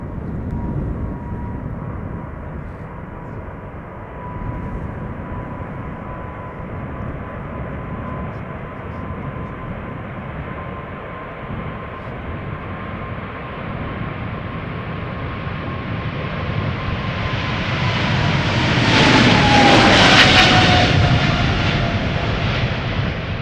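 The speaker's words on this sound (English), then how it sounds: "China Southern Cargo. 777-300, 777 freighter. Outbound to Shanghai" A China Southern Cargo Boeing 777 freighter departs, a distant broadband jet roar with a steady whine that builds gradually and peaks loudest near the end as it passes.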